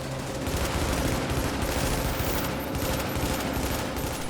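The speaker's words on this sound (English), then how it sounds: "SA-58 pumps out roughly 500 rounds per minute" SA-58 assault rifle from The Division firing in a sustained, dense automatic stream, rapid overlapping shots forming a continuous loud roar with rumbling low end throughout, no voices present.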